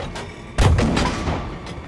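A tank shell strikes and glances off armor in Battlefield V's Last Tiger campaign, a sudden heavy boom with a ringing decay, loud and close amid ambient battle noise.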